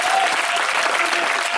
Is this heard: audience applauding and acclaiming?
yes